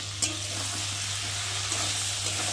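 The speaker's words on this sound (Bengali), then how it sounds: "লঙ্কার গুঁড়ো, জিরের গুঁড়ো দিয়ে মশলার সাথে আলুটা ভালো করে কষিয়ে নেব।" Potatoes fry in a pan with chili and cumin powder while being stirred, a steady close sizzle with a scrape of the spoon near the start and a low hum underneath.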